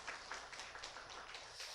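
A church congregation gives faint, sustained applause for the choir, a soft dense patter of many hands heard from a distance.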